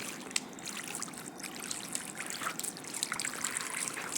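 Water from an outdoor tap trickles and splashes while pigeon droppings are washed off outside, a faint continuous dribble with small intermittent spatters and no talking.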